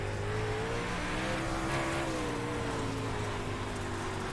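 A Super Dirt Late Model race car engine in iRacing roars at held throttle with a steady droning pitch that rises slightly and settles, loud and close throughout with no talking.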